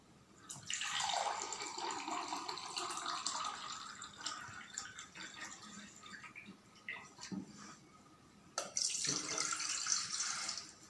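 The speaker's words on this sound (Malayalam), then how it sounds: "ഈ പാത്രത്തിലേക്ക് 2 ഗ്ലാസ് വെള്ളം എടുക്കാം" Two glasses of water pour steadily into a vessel with a rushing splash, pausing briefly, then resuming in a second strong gush near the end.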